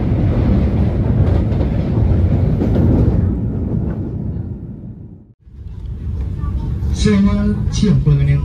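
Loud, steady rumble of the Gajahwong economy premium passenger train running on rails between Jakarta and Yogyakarta, heard from inside the carriage, with a brief dip in the noise and some faint voices nearby.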